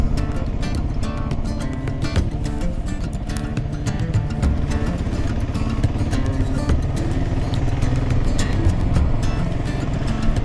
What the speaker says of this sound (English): All the motorbikes.